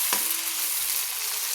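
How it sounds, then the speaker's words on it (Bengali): Chopped onions fry in a pan, a dense, even sizzle of hot oil with a brief clink at the start, close and steady for the whole moment. "হালকা হালকা লাল লাল করে আমি ভেজে নিচ্ছি পেঁয়াজগুলো"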